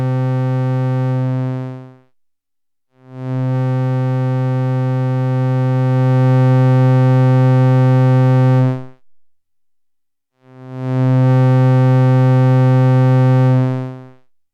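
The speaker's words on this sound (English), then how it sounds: "we have made a new oscillator just from the envelope generator being triggered at audio rates" A synth voice built from an envelope generator retriggered at audio rate sounds as a steady, buzzy harmonic tone, played in three sustained notes separated by short silences, loud and alone with no talking.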